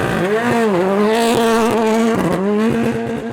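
A Ford Fiesta R5 rally car on a gravel rally stage roars loudly and close, its engine pitch rising and dropping through rapid gear changes as it blasts past.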